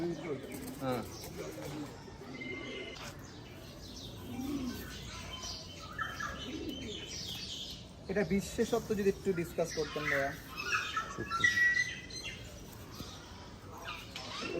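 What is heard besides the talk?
pet pigeons cooing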